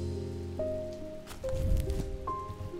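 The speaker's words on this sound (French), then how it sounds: "La pluie, encore!" Rain falls in the video game Lethaos: Strange Antiquities, a steady patter of drops under soft sustained musical tones from the game.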